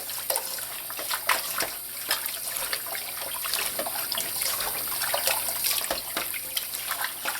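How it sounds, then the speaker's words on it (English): Tap water runs steadily over raw chicken during a rinse in a kitchen sink, a continuous close splashing trickle with small irregular spatters and no talking. "Now I like giving the chicken one more rinse in some tap water."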